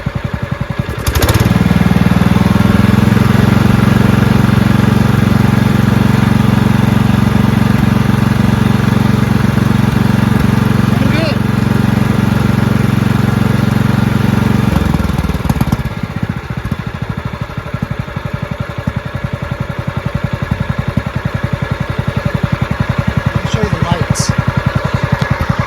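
Close and loud, a Craftsman LT1000 lawn tractor engine runs at full throttle, a sustained high roaring drone for about fourteen seconds before it drops back to a rougher, lower rumble.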